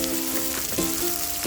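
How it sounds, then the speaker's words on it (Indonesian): Sliced chili and scallion sizzle in hot oil in a pan with shallots for a stir-fried egg and oyster sauce dish, a steady close frying hiss broken by a few stirring scrapes. "Kemudian masukkan irisan cabai dan irisan daun bawang. Kita tumis berbarengan sebentar."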